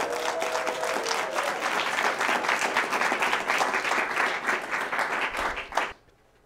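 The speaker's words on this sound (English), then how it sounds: "Let's give them a round of applause and a great welcome." A cabaret show audience welcomes the performers with sustained, even applause. Many hands clap steadily for about six seconds before it cuts off into quiet.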